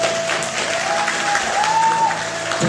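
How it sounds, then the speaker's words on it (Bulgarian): An audience at a martial arts club's sports show claps for a performer named Teddy: dense, steady applause at full volume throughout, with no break. "Благодарим, овации за Теди."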